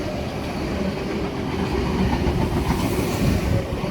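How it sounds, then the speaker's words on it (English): A V-set double-deck electric passenger train runs through a suburban station platform without stopping, making a loud, steady rumble with rhythmic wheel clatter that swells slightly toward the end. "We have a V-set passing platform 1"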